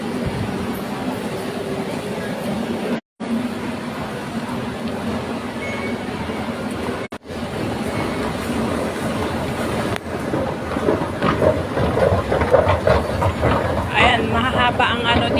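An MRT metro train rumbles steadily with a constant low roar and faint rhythmic rail clatter, growing busier and louder toward the end, with short dropouts along the way.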